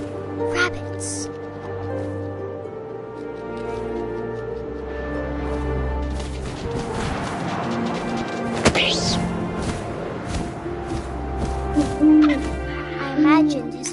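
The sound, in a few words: owl hooting in the video game What Remains of Edith Finch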